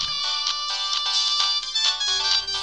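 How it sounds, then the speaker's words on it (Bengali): A phone rings with an incoming call, its bright electronic ringtone looping steadily and loud, with no voices over it. "ফোন আসছে"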